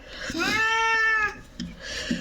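An indoor domestic cat lets out one long, clear, drawn-out meow close by, followed by a couple of short, softer sounds.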